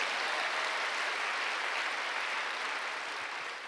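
A church congregation at a Sunday worship service bursts into sustained, dense applause, a steady wash of many hands clapping together that fills the space and tapers slightly toward the end.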